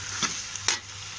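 Ten quartered tomatoes cook in a pan as the base of a pepper-garlic stingray curry, giving a soft sizzle broken by two quick, sharp spoon-stirring scrapes close by.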